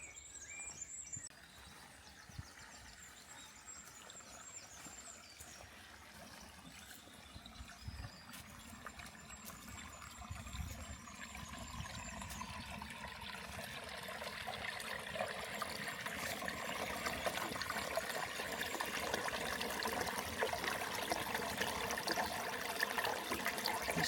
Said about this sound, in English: We do have a little water feature here though.